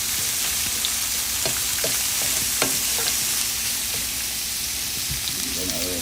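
Peppers and carrots stir-fried in a hot pan, a steady sizzle broken by scattered scrapes and clinks of a utensil mixing the vegetables, close and continuous.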